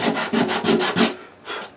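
120-grit sandpaper rubs along a wooden guitar neck from a 1976 Martin D-28 in a series of close, scratchy back-and-forth strokes, about six quick passes followed by a pause and one more stroke.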